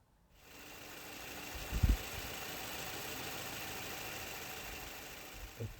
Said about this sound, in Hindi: और सुन लेते हैं इंजन की साउंड।